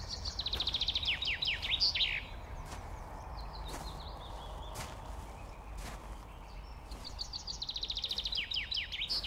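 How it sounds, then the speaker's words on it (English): Birds sing in a London garden in spring, with bright twittering phrases at the start and again at the end over a soft, quiet outdoor background. "full of birdsong"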